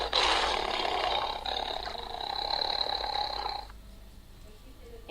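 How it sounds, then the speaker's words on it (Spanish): A tiger gives one long, rough, breathy roar that holds for several seconds and then fades out, heard alone at moderate volume. "El tigre."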